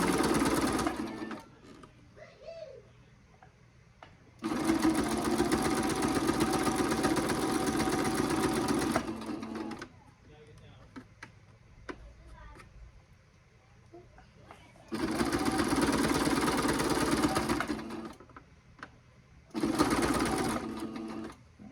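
Sewing machine stitching an extra-large self-binding potholder, running in three steady bursts of a few seconds each, separated by quiet pauses with light handling noises.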